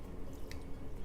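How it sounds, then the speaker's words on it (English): Liquid from canned chickpeas poured into a blender for hummus, a brief wet dribbling and squishy splash that runs close and fairly steady for about a second, with no voices. "so I'm gonna go ahead and pour in"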